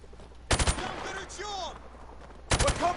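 Video game gunfire in Propaganda: two short, loud bursts of rapid shots, about two seconds apart. Faint in-game voices or effects fill the gap between them.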